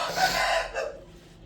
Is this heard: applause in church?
no